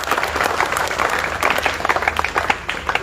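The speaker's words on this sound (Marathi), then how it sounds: "एकदा टाळ्या वाजून या" A crowd at an iftar party claps enthusiastically, dense applause with scattered louder individual claps throughout, fairly close and continuous.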